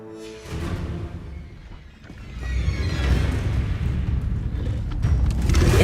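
An Inferno fire spell cast in a Harry Potter video game: a deep, rumbling roar of flame that swells and keeps booming loudly for several seconds.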